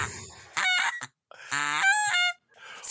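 A human voice imitates a goose being killed, giving two long, harsh, strangled honking shrieks separated by a brief silence, close and loud.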